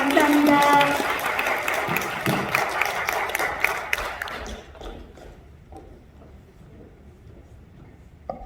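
An audience at a lecture event claps for a bouquet presentation, a dense burst of applause that fades out after about four seconds into quiet room noise.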